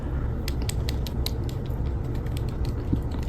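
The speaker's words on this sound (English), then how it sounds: "you hear that? It's like slightly ratcheted." Fine ratcheting clicks from the articulated joint of a Jada Toys Chun-Li action figure being flexed, a quick run of small faint ticks over a steady background hiss.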